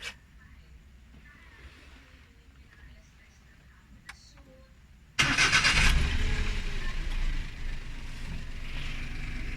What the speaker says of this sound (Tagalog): So start na natin yung makina.